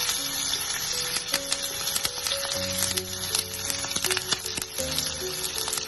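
Ginger and curry leaves sizzle steadily in hot oil in a pan, with a dense, crackling frying hiss and sharp pops throughout, fairly close, under soft background music.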